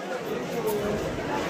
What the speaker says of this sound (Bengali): আর পেছনে ভিড়টা একবার দেখো শুধু